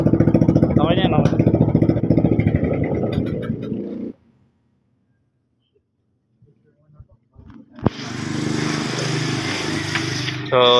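A new motorcycle engine runs with a loud, steady buzzing drone, falls silent for a few seconds with faint handling noises, then starts again with a roaring rev and keeps running.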